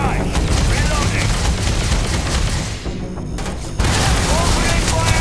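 Gunfire in the video game Starfield: loud, dense bursts of shots and booms fill the scene, with a brief drop in intensity midway before the firing resumes at full force.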